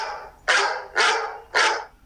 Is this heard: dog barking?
yes